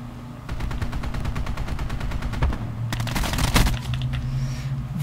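Rapid automatic gunfire during a gunfight in Black Ops 4 multiplayer, a fast rattling burst of shots followed by a few louder, sharper cracks near the end, with game ambience underneath.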